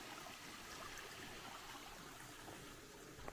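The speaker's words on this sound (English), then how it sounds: "Well, we got a creek here alongside the trail." A creek runs alongside a hiking trail toward Opossum Creek Falls, giving a steady, soft rush and trickle of flowing water, continuous and even, with no voices.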